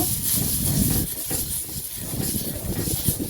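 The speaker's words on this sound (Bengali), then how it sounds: "এখন আবার তেলে ভেজানো কাপড়টি দিয়ে তাওয়াটি মুছে নেব" An oil-soaked cloth is wiped across a hot tawa after roti making, producing a continuous loud sizzle and hiss that rises and falls slightly with the wiping strokes, no talking.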